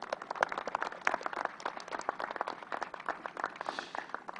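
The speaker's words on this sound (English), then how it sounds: "Let's give another round of applause" Crowd applause at an outdoor groundbreaking ceremony, a steady patter of many hands clapping for several seconds at moderate, slightly distant volume, without voices.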